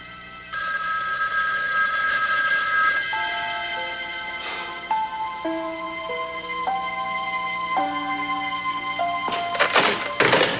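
An unanswered telephone rings on and on in a TV drama scene, a steady electronic bell tone with shifting pitched chimes, ending in a few sharp knocks.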